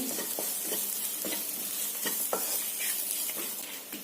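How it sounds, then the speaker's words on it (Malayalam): Mushroom thoran, a mushroom stir fry, sizzles softly in a hot pan while a spoon stirs it in repeated scraping strokes, close but fairly quiet. "ഒന്ന് ഇളക്കി കൊടുക്കണം, ഈ പച്ചമണം ഒന്ന് പോകുന്നിടം വരെ."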